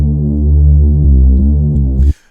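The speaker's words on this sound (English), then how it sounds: "I wanted to create like a bass line, like a cool bass line." A deep, sustained synthesized trap bass line made in FL Studio for an Afro Pop beat, with a few gliding note changes, loud and alone, cutting off abruptly near the end.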